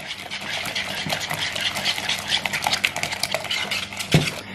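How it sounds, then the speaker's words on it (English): A whisk beats keto muffin batter in a bowl close by, giving a fast, steady run of light metallic clicks and scrapes with no voices. "Now I'm just going to go ahead and whisk that all together until well combined."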